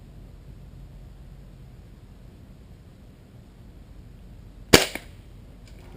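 A single sharp airgun shot cracks out at a fox squirrel outdoors, a brief loud pop with a faint echo, preceded by several seconds of quiet background hiss.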